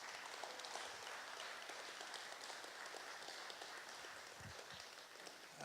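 Quiet, distant audience applause after a university music students' performance in Samoa, a soft patter of scattered hands continuing steadily with a few low thumps near the end.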